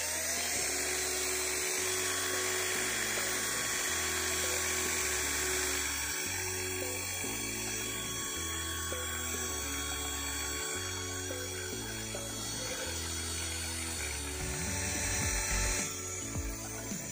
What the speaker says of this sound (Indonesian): Kita akan lihat berapa tahannya bor ini dinyalakan terus-menerus dengan sisa